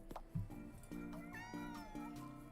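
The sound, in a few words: cats meowing in a video game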